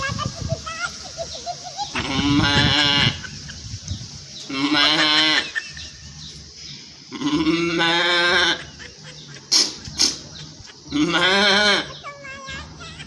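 Someone imitates a bleating goat with four loud, wavering, nasal bleats spaced a few seconds apart, with brief clicks and short noises in the gaps.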